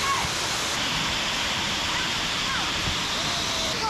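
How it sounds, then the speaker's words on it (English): The main waterfall at Lugnason Falls on Siquijor Island pours in a loud, constant broadband roar close by, steady throughout with no breaks. "So, that's the main waterfall"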